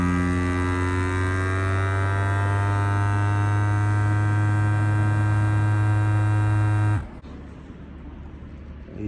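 The electric vacuum pump of a Grabo vacuum lifter hums steadily with a strong low electric drone and buzzing overtones for several seconds, then cuts off abruptly, leaving quiet background noise.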